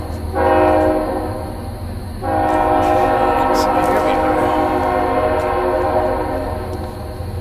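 A train passes close by with a long, loud, sustained horn blast that sounds in two stretches, joined by rumbling rail noise, while a person speaks briefly over it.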